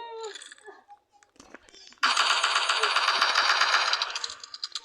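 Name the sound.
gunfire in a video game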